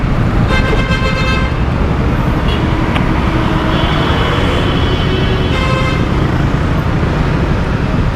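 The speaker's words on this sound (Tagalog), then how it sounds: "Traffic na dito sa Camaro" Steady roadway traffic with engines rumbling close by, broken by several bursts of car horn toots, one group early and another near the end.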